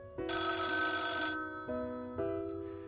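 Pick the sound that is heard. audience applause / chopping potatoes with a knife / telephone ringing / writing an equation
telephone ringing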